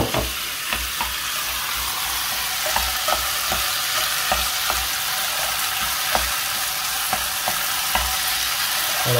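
Chopped bell pepper and chicken fry in a hot pan for a Tex-Mex panini filling, a steady loud sizzle broken by regular scrapes and taps of a utensil stirring through the pieces.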